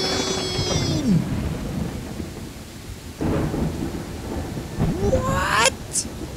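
Stormy weather in the Viking settlement-building game Land of the Vikings, with rain and low thunder rumbles, overlaid by sharp tonal game effects and swooping chimes near the end.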